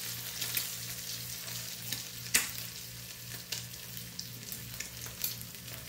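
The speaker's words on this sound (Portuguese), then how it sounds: "fritando aqui no quente da frigideira" An egg fries in a hot pan for tapioca with the heat turned off, a soft, steady sizzle broken by faint crackles and a few light clicks of a spoon.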